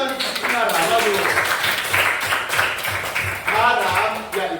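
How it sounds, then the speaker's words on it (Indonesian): Children in an Indonesian primary classroom clap together in a lively burst of applause that runs throughout, with voices chattering loudly over and under the clapping. "Iya, ayo tepuk tangan Kinara."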